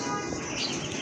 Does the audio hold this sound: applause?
no